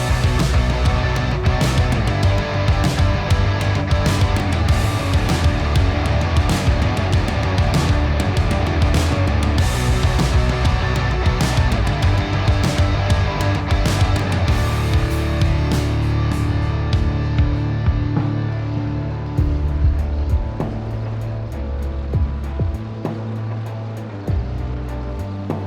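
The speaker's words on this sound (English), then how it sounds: "I'd jump in the tractor and head over to the store." A tractor drives in Farming Simulator 22. A continuous loud engine drone runs steadily with a rushing, noisy texture, and the tone shifts lower toward the end.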